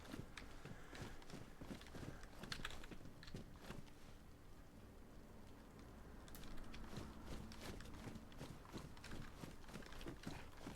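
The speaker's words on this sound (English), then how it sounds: "I thought I just heard footsteps above me then." Footsteps thud above the player in the video game DayZ, a steady run of close, repeated steps with clip-clop-like impacts over a constant background bed, no talking.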